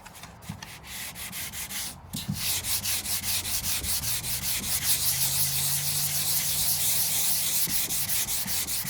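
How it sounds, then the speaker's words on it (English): Sandpaper on a hand block rubbed back and forth over rusty car bodywork, a steady rapid scratchy rasp in quick even strokes, close and continuous, with no talking. "You just sand enough so the scratches disappear."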